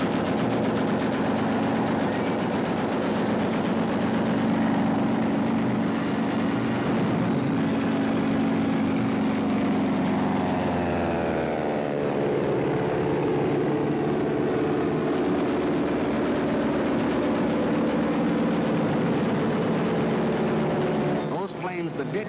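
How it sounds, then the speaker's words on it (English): WW2 Luftwaffe propeller warplanes fly overhead, a loud droning engine roar with sweeping pitch changes and a passing whine near the middle, under a narrator's voice. "the planes of the Luftwaffe were over Poland, wiping out the Polish Air Force"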